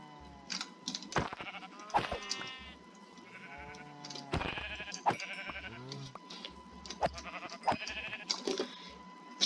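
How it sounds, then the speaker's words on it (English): Video game sheep bleat repeatedly in a survival game, several short nasal baas coming one after another at close range, mixed with small clicking game sounds and no talking. "Better go get some sheeps and make a bed."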